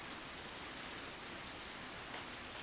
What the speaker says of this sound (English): the murky skies are spitting out fat drops of rain